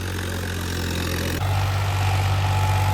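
A new Farmtrac 60 tractor idles with a steady, loud low rumble and constant mechanical drone, its tone shifting slightly partway through.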